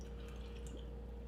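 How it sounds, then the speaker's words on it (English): Limoncello liqueur poured over sugar and mixed berries for a dessert pizza, a soft, quiet trickle and a few faint drips over a low steady background hum, with no talking. "how about that limoncello liqueur? Pour some in. It will help melt the sugar."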